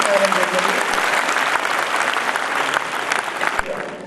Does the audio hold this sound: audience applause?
yes